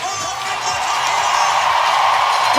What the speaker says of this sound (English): And you can hear the crowd in the background.